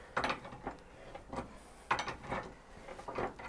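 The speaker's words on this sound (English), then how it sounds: "now just turn the nut and slowly but surely" A nut turns on a threaded bearing puller drawing a bearing from a Hayabusa motorcycle, making a series of close, uneven metallic clicks and ratcheting creaks in bursts.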